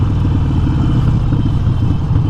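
Harley-Davidson Forty-Eight motorcycle engine running loud and close, a steady deep rumble with a throbbing low pulse and no talk over it.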